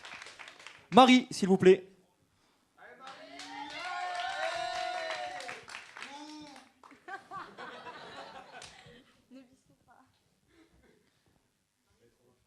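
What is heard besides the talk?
audience applause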